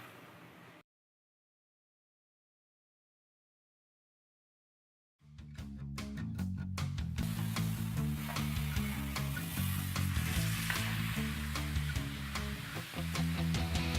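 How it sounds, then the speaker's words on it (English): Beef searing in a hot pan during a cooking segment: after a stretch of silence, a loud, steady sizzle and crackle starts abruptly and continues densely for several seconds, with a few sharp pops at the onset. "now that the beef is searing, it's gonna take roughly about 10 to 12 minutes"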